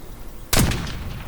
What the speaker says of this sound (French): Bah voilà, j'entends des tirs, ça me tire dessus.